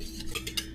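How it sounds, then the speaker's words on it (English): Dry baking ingredients for black cocoa banana bread are stirred in a bowl, giving a short run of soft scraping and light clinks from the utensil against the bowl, quiet and close. "So the first thing I'm going to do is I'm going to mix this in real quick."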